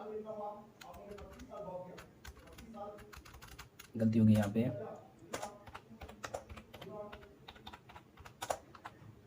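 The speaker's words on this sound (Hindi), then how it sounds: "थोड़ा टाइपिंग करना पड़ता है इसीलिए।" Someone types on a computer keyboard while entering accounting transactions in a class 11 lesson. Quick, uneven clicks run throughout, close and fairly soft, mixed with someone talking over them.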